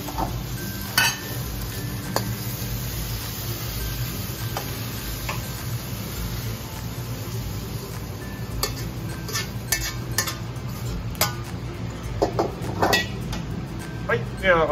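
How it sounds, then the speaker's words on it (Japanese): Green pepper steak (chinjao rosu) tossed and stir-fried in a wok at a ramen restaurant kitchen, with steady sizzling and scraping of the pan under a busy kitchen hum, while people talk in the background. "しっかりお鍋の方でね、ちょっと煽ってもらって"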